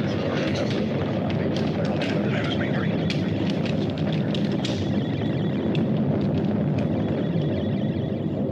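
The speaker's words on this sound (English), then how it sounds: "Mila, check the distance of the stellar explosion." A stellar explosion sound effect from the 1978 sci-fi film Cosmos: War of the Planets: a dense, roaring broadband rumble with crackling bursts, sustained and loud throughout without a break.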